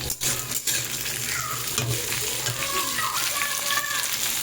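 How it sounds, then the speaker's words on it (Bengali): Mixed vegetables, including pointed gourd, fry and sizzle in a pan while being stirred for a fish curry, with scraping and clinking strokes over a steady hiss and a faint watery background, close by. "এবার সব সবজি একসাথে একটু মিশিয়ে নিই"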